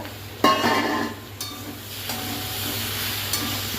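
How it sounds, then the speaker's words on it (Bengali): A fried hilsa fish head drops into a pan of pumpkin curry with a sudden sizzle, followed by a few spoon knocks and a softer, sustained frying hiss. "এবার দিচ্ছি ভেজে রাখা ইলিশ মাছের মাথা"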